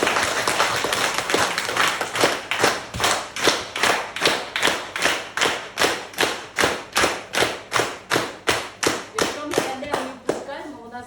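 Audience in a school session at a Carpathian holiday camp claps in a steady, rhythmic unison beat, roughly two claps per second, loud and sustained for about ten seconds.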